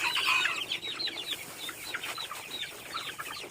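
Several chickens cluck and squawk in a busy, overlapping chorus, with no talking.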